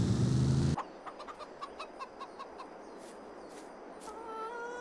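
Chickens on a farm in the video game Farming Simulator 22 cluck in a short series of repeated calls after a loud opening burst, with a higher fowl call near the end over quiet ambience.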